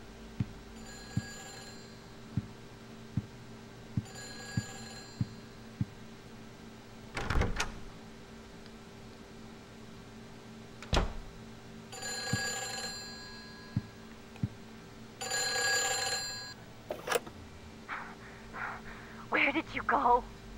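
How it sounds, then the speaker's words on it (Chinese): A telephone rings in the Silent Hill 4 video game, sounding as several separate bursts of ringing between sharp ticking clicks over a quiet, eerie game ambience. "哎，电话"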